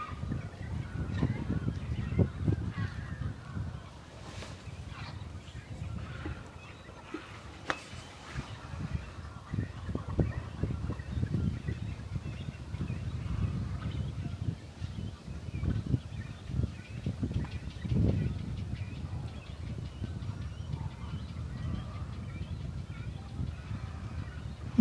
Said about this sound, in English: all those white spots on the tree, those are birds sitting on nests